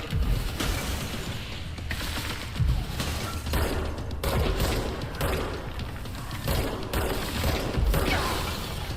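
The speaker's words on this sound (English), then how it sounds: "We can at least take some shots at him." Gunfire in the video game Control comes as repeated loud bursts and clattering mechanical shots every second or so, layered over a dense, constant game backdrop.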